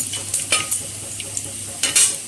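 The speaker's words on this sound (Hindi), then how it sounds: "पंचफुटण फुटीगला" Panch phoron spices sizzling in hot oil while being stirred for a dahi kanji tempering, with steady soft crackling and a few sharper pops and scrapes close by.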